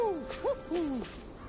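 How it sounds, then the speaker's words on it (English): An owl in the Tales of Arise video game gives a few short, wavering hoots in quick succession, fairly close and moderately loud against a quiet background. "Okay, an owl is nearby."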